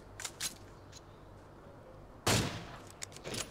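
Sniper rifle fire in a mobile shooter video game, a few faint distant shots followed by one sharp, louder crack and some scattered quieter pops, with no talking.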